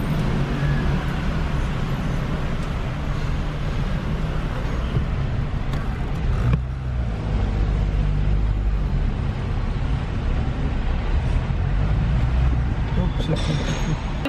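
Steady road rumble and engine drone fill the cabin of a moving car, heard from inside as a constant loud low hum with a brief thump midway.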